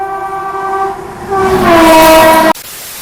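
A train overtaking on a parallel track during an Indian express journey, its loud sustained horn sounding for over two seconds while rumbling wheels swell closer, then the horn cuts off abruptly, leaving quieter rail noise.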